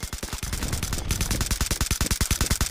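Rapid automatic gunfire in the mobile shooter game Hyper Front, a dense unbroken burst of evenly spaced loud shots with no pauses.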